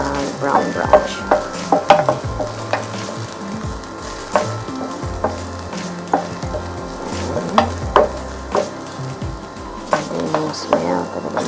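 Garlic sautéing in a Saladmaster pan for pancit canton, browning while being stirred: steady sizzle with frequent scraping and clinking stir strokes, sharp spikes scattered throughout, close and fairly loud, with faint background voices.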